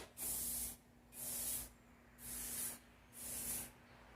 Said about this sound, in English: I'm not crazy about how this can's spraying. It's kind of spitting a little bit